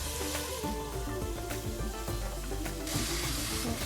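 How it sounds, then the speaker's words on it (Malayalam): Chopped onion sautéing in hot oil with fennel seeds, a steady soft sizzle with light stirring scrapes and small clinks, close and fairly quiet. "സവാള മൂപ്പിക്കുകയാണ് വരുന്നത്."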